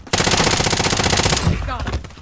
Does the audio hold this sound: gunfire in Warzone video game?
yes